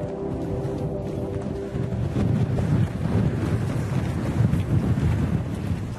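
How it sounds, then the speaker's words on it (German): Wind gusts across a mountain ridge trail as an afternoon storm front moves in, a loud buffeting rush against the microphone that strengthens after a couple of seconds. "Wind schiebt erst die Wolken und dann den Regen quer über den Weg."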